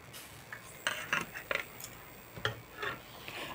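A spoon scoops semolina paratha batter into a hot black wok, producing a few faint metallic clinks and taps scattered over quiet kitchen background.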